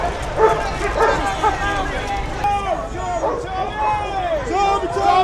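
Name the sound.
police dogs barking at a demonstration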